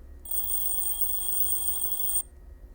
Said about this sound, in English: I wake up to the sound of my alarm clock and shut it off.